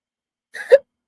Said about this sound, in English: Hiccup, sorry.